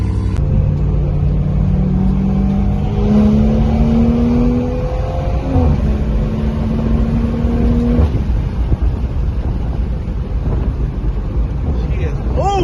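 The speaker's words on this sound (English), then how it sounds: "Cars are loud as fuck." Loud cars at a large RWB car meet revving and accelerating, with engine tones rising and falling over a constant heavy rumble and people talking throughout.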